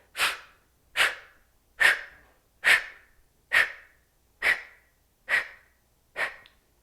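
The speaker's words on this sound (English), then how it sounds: "A full nasal breath in through the belly, through the sternum, into the collarbones, and then pursed, firm lips on the exhale" Eight evenly spaced breaths in a kundalini yoga practice, full nasal inhales followed by firm exhales through pursed lips, each a short airy puff about a second apart, close and steady with no talk.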